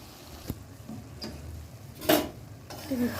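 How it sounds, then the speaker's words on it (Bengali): Egg tarka is stirred and mixed in a pan, with a few distinct clinks and scrapes of a utensil against metal over a low sizzle, close and moderately loud. "নাড়িয়ে এটাকে মিশিয়ে দিই"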